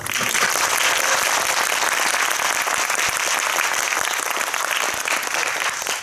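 Cinema audience at a film talk event in a multiplex theater gives a big, even round of applause, dense clapping filling the whole stretch with no voices over it.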